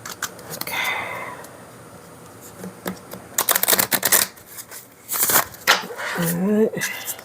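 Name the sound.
shuffling an oracle card deck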